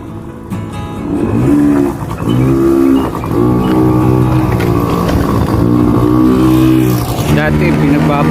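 A motor scooter hums and revs up and down nearby indoors in a shifting engine drone, with people talking over it.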